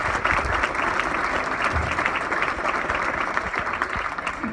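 Audience applause at a gala, a dense sustained clapping from a full room, steady and fairly loud throughout with no voices on top.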